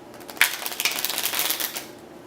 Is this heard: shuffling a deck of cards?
yes